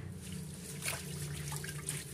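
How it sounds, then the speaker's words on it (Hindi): Bathua greens are swished by hand in a sink filled with water, giving faint, soft splashing and trickling sounds with small drips, close and quiet. "सिंक में ही मैंने अच्छी तरह से सिंक को साफ करके पानी भर लिया है, और इसी में ही मैं बथुए को धोऊंगी अच्छी तरह से मिला के"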